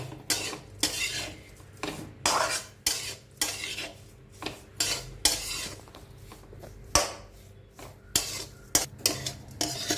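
Coconut mixture for narkel naru being stirred in a kadai over a medium-high gas flame, with repeated scraping strokes of the spoon against the metal in an uneven rhythm, heard up close with no talking.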